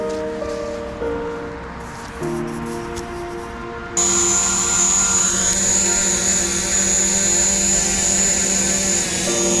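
DJI Mavic Mini drone flying nearby, a steady whining propeller buzz with shifting tonal harmonics that jumps louder and higher partway through, continuous with no talking.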